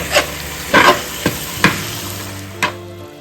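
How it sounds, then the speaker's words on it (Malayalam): Beef curry with spices being stirred in a pan for Kasaragod church-style palli curry: five sharp, separate scrapes and clacks of the spoon against the pan over a low, constant sizzle. "അതുവരെ നമുക്ക് ഇളക്കിക്കൊണ്ടിരിക്കാം."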